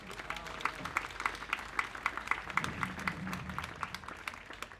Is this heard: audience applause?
yes